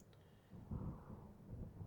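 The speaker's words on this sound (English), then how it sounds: "Oh, there's the storm." Thunder rumbles low and distant from a storm in the video game Firewatch, a soft rolling swell that builds and lingers, faint and without speech.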